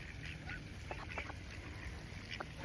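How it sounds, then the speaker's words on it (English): Ducks quack several times in short, scattered bursts at moderate distance, fairly faint over a steady background hum. "What are we gonna do with these ducks?"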